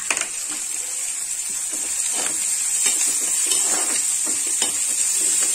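Carrots and other vegetables frying in an old pan at home, a steady bright sizzle with occasional stirring scrapes throughout, close and alone.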